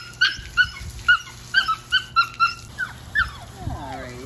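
Samoyed puppy whimpering during a bath, a run of about a dozen short, high yips and whines in quick succession, close and fairly loud, easing into softer whimpers at the end.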